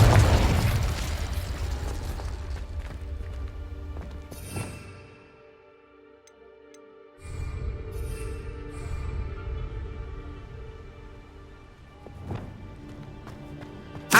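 Confringo fire spell explosions in Hogwarts Legacy: two sharp booming blasts, one near the start and a second shortly before the end, each over a low rumbling game backdrop with a brief near-silent gap between them.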